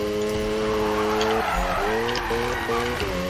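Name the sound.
car engine revving in Need for Speed video game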